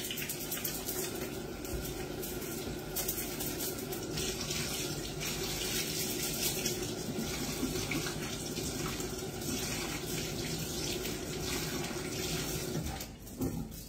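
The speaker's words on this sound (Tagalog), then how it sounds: "Teka lang, iinit lang ako tubig." Water runs steadily from a kitchen tap into a container to be heated, a continuous broadband rush that holds loud and close for the whole stretch with no talk over it.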